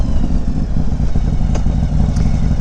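A Harley-Davidson Street Glide fitted with Flow Motorsports footboards rides along, its engine giving a steady, loud low rumble throughout, with a couple of brief clicks or rattles over the top.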